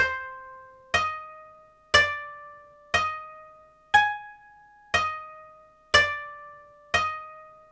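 A simple plucked string melody from the free DSK World Strings plugin, with eight bright notes struck once per second, each ringing and decaying cleanly on its own with no other sounds.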